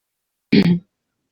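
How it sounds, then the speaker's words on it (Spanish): A single short throat clearing or cough, close and fairly loud, lasting about a third of a second in a quiet classroom setting, with no talk around it. "Tenía que toser."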